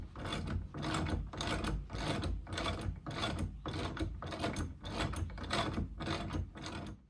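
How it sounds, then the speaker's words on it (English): Ratchet wrench tightening two 5/16 inch bolts on a Hyline Offroad rear bumper being fitted to a Jeep Wrangler TJ, heard as a steady run of about ten evenly spaced clicking ratchet strokes, close and fairly loud, with no talk. "we've got two 5/16 inch bolts that we're installing here"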